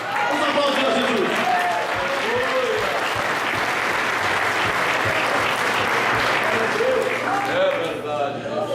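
A church congregation at a family worship service claps together for Jesus, a sustained dense round of applause with singing and voices layered underneath, easing slightly near the end.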